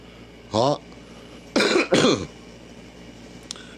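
Three harsh coughs from one person, close and loud: a single cough, then a pair in quick succession, followed by a faint click.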